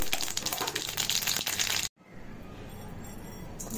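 Mustard seeds splutter in hot coconut oil with dense, rapid crackling and popping. After an abrupt cut, a quieter sizzle follows.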